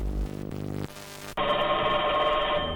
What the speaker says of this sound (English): Okay, this is a phone call.